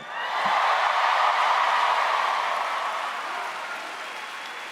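An audience at a Parks and Recreation tenth-anniversary reunion panel at PaleyFest 2019 bursts into loud, dense applause with cheering, holding steady before slowly tapering off.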